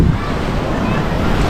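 Sea waves wash steadily onto a public beach in Sorsogon, a broad continuous surf roar mixed with wind buffeting the microphone.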